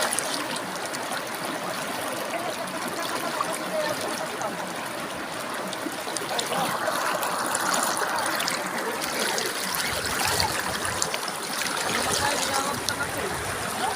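Strong, rushing water of a mountain stream near a summit, a dense continuous roar heard close up without a break.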